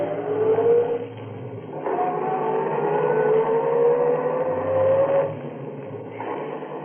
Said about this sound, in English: I drove away.